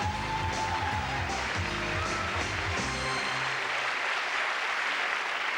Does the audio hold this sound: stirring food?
no